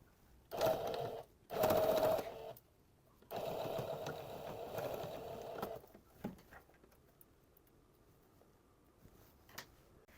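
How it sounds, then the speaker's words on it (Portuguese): A sewing machine stitches a seam with backstitching at both ends, heard as three close bursts of rapid whirring, two short ones and then a longer run, separated by brief quiet, followed by faint handling noises. "a gente vai fazer uma costura com margem de um pezinho, dessa marcação até outra marcação"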